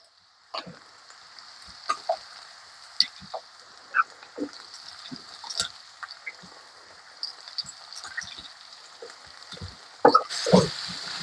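Sliced onions sizzle steadily in hot oil in a pan for a chicken roast, with a soft continuous hiss and occasional sharp pops and scraping stirs.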